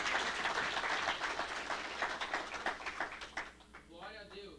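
A church congregation breaks into applause, a dense clatter of many hands that thins out near the end as a voice begins to speak over it.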